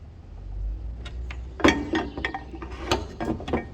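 A screw is fastened by hand into a manifold part from a Yamaha VMAX 1200, producing sparse metallic clicks and ratcheting ticks up close over a low background hum.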